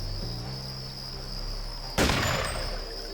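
A single loud gunshot rings out partway through in Deus Ex, a sharp crack that fades into a ringing tail, over a quiet bed of steady insect-like chirping.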